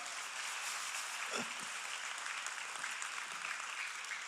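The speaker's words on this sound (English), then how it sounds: "I think that's a good spot to clap, right?" Steady applause from a church congregation, sustained clapping that fills the room throughout without letting up.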